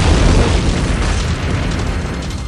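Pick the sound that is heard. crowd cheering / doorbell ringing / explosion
explosion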